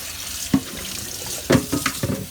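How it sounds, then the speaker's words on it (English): Water runs from a tap with a steady splashing wash, broken by a few louder clunks and sloshes as a bowl is rinsed beneath it. "Rinse your bowl out."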